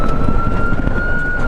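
Ambulance siren sounding in traffic, a loud, steady wailing tone held close by and continuous over the hum of passing vehicles, ending abruptly.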